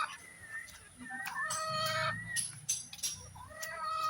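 Several backyard chickens being fed coconut pulp cluck and squawk nearby in quick, overlapping bursts, with soft background rustling.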